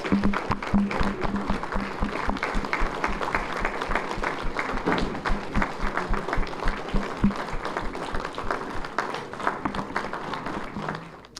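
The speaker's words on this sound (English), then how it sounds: "Let's give all these folks a round of applause." Sustained, dense applause from the audience at an American Legion Post 68 awards banquet, many hands clapping steadily for over ten seconds in a large room.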